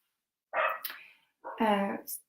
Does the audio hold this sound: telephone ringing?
no